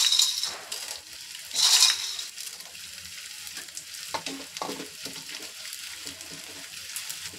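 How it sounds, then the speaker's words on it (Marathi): Pieces of edible gum frying in hot ghee for laddus, a soft sizzle with bursts of louder crackling, punctuated by scrapes and clinks of a ladle stirring against the pan. "आता आपण याच्यामध्ये थोडा थोडा करून डिंक तळून घेऊ"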